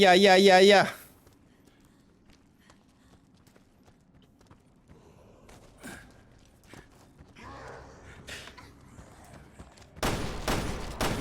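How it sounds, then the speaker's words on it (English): Gunfire in the Resident Evil Revelations 2 video game, Penal Colony episode, comes as a rapid string of loud, sharp bursts near the end, after a quiet stretch of faint footsteps and scattered game noises. "Oh, I actually headshot him."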